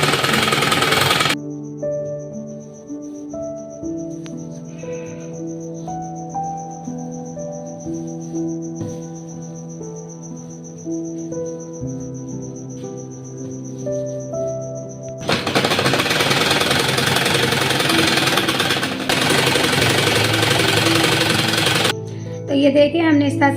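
A sewing machine stitches the seams of a designer shirt for a child, running steadily with a fast mechanical whir, then stopping before a louder, rougher burst of noise.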